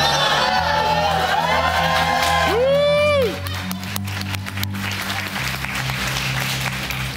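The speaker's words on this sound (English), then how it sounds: "If everyone could help me, cheer the couple on and say bottoms up." Wedding guests at the Pelican Club in Jupiter, Florida cheer and clap for the newly married couple, a mix of applause, whoops and shouts under music and a voice, the crowd noise loud at first and then settling lower.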